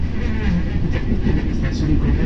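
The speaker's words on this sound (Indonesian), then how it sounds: "Kereta api Argo Wilis masuk stasiun Kroya" Argo Wilis passenger train pulling into Kroya station, a loud steady low rumble of wheels and carriages with faint rail clatter throughout, alongside a public announcement voice.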